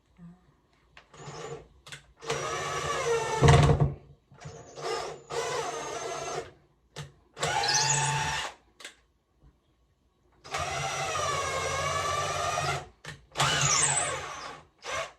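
A power drill whirs in repeated bursts during a bathroom renovation, starting and stopping and changing pitch, close and fairly loud with short pauses between.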